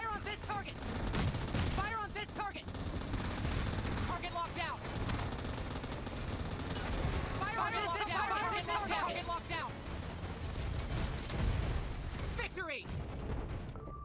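M249 machine gun fire in PUBG Mobile's Rage Gear mode rattles in repeated bursts, mid-distance and fairly subdued, with voices talking over much of the shooting.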